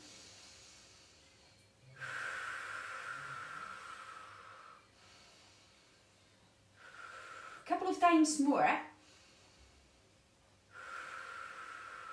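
Deep breathing during a seated Pilates exercise: one loud, rough, breathy rush close to the mic, between stretches of an instructor's calm spoken cues.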